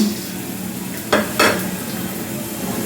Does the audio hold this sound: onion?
yes